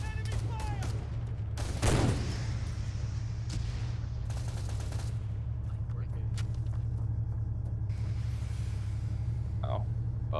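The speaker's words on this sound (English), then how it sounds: "Enemy fire!" Enemy gunfire in the Arma 3 combat game, set in Western Sahara: bursts of rapid shots and one loud crack stand out over a steady low engine rumble, with scattered distant reports throughout.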